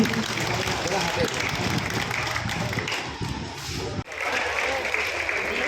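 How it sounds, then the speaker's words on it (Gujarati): A crowd applauds at a Diwali community gathering held in a samaj hall in Kim, giving a dense, sustained wash of clapping that carries on steadily, with some voices mixed in underneath. "આપણે જોરદાર તાળીઓના નાદથી વધાવી લઈએ"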